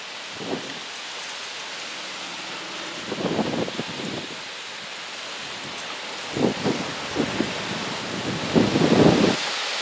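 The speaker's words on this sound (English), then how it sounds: "got a lot of wind here, and I'm having to shield my mic with my finger as best as I can." Strong wind buffets a partly shielded microphone outdoors during a flats skiff build, coming in several rumbling gusts over a steady hiss, the loudest near the end.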